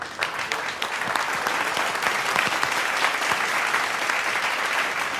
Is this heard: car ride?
no